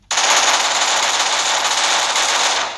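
Rapid machine-gun fire in a video game, one sustained, loud burst of fast repeating shots lasting nearly three seconds and cutting off abruptly, heard alone without talk.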